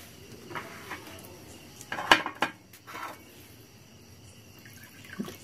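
Metal kitchen vessels clatter and clink a few times, with a sharp knock near the middle and faint watery drips, while a homemade toilet cleaner is mixed from raw materials; nobody speaks.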